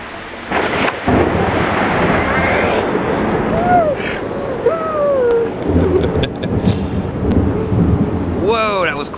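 Thunder from lightning striking close by during a rainstorm rolls in as a loud, broad rumble with a sharp crack near the start, then long rumbling under steady rain while people exclaim and talk excitedly.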